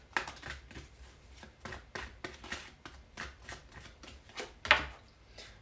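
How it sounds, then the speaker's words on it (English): Two decks of tarot cards shuffled close by, a steady run of soft papery riffles and slaps with a sharper snap near the end. "As I was shuffling, because I shuffled both decks"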